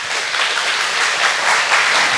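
A church congregation applauds during a worship service, dense sustained clapping from many hands, loud and close throughout.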